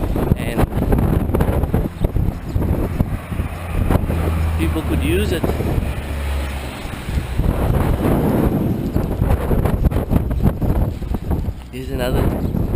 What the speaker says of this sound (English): It's a bit windy here. Wind has just come up now.